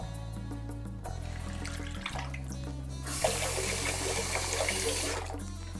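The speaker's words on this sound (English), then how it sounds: "I gotta keep running the water" A bathroom tap runs steadily during a shave with a Wilkinson Sword Quad Blade razor, a soft hiss that jumps to a fuller, louder gush partway through over a low steady hum.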